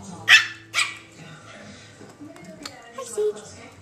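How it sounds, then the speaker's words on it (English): A Chihuahua barks sharply at a pit bull, two loud close yaps followed by softer yips and growls, with people talking throughout. "The Chihuahua attacking a pit bull."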